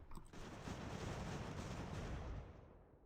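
Cannon artillery fire in the Ultimate General: American Revolution video game, a heavy rolling barrage of booming shots blending into one sustained rumble that fades out after a few seconds.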